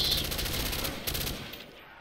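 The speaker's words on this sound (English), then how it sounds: "We'll spam some bullets." Rapid bursts of automatic gunfire from a player spraying bullets in Call of Duty Zombies on the Kino der Toten map, a dense continuous rattle that fades off near the end.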